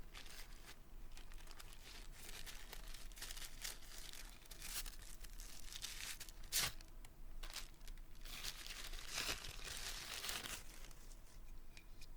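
A small paper envelope being opened, with soft close crinkling and one brief tearing snap in the middle, all faint with no talking.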